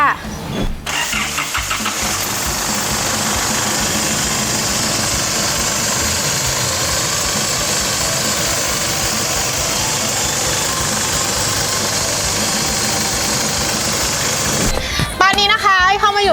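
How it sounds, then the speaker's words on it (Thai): An Isuzu MU-X 3.0 diesel SUV engine cranks and catches, then settles into a steady, loud idle that rumbles on close by for most of the stretch before the sound changes at the end. "งั้นเดี๋ยวไอจะไปสตาร์ทรถแล้วก็จะไปลองขับให้เพื่อนๆดูกันนะคะ"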